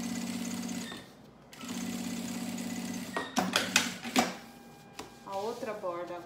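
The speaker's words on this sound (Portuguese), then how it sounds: "eu vou fazer a costura pelas bordas" Sewing machine stitching along the edges of a fabric piece, two steady humming runs with a brief pause between, then clicks and handling noises as a voice speaks.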